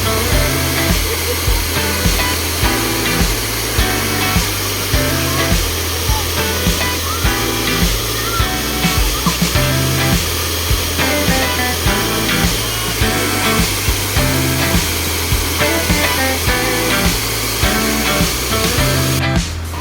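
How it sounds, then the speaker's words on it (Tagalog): The tallest falls at Dalitiwan Resort in Majayjay, Laguna roar as a loud, constant broadband rush of falling water, with a steady rhythmic thumping underneath throughout. "yung pinakamataas na waterfalls niya"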